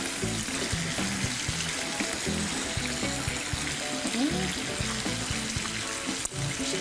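Marbled cheddar cheese is rubbed by hand over a grater while making homemade burgers, a steady close-up rasping hiss that runs without a break, with a faint tonal hum underneath.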